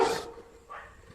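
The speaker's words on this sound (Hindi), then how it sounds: "टॉमी गुड़िया के ससुराल आता है और जोर जोर से भौंकने लगता है" Dog Tommy barks loudly in two bursts, a strong near bark at the start and a softer second one a moment later, with no one speaking.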